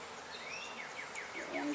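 A honey bee buzzes close to a beekeeper working a hive frame of honey and partial brood, a thin wavering drone that rises and dips as the bee circles near.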